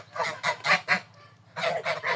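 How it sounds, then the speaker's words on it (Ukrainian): A young Large Grey goose honks in two bursts of rapid, nasal calls, close and loud, with a short pause between them. "Це молода гуска."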